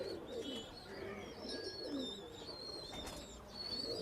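A KTM teddy pigeon gives soft, low cooing in repeated rolling phrases close by, with faint chirps and wing rustles from other birds in the loft behind it.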